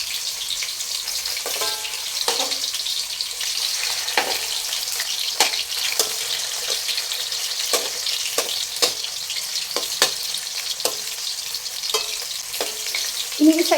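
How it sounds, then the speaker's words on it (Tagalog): Pork frying in hot cooking oil for pochero, a continuous close sizzle with occasional clinks and scrapes of a utensil turning the pieces, no talking. "Kasi mainit na yung mantika natin dahil may una nang nagisa or na prito."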